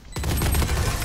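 A sudden burst of rapid gunfire erupts in a shooter video game after a brief quiet, loud and close, continuing as a dense rattling volley to the end.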